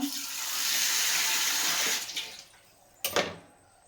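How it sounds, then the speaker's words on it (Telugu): Water pours in a steady close stream into flour being mixed into dough for stuffed mirchi bajji, running about two seconds before tapering off, followed by a short sharp splash. "ఇదిగోండి తగినంత వాటర్ వేస్తూ పిండి కలపాలండి"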